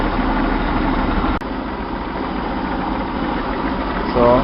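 A Chevy 230/250 straight six with a Weber two-barrel carburetor and a vacuum leak idles cold, a steady close engine drone with a brief knock near the middle.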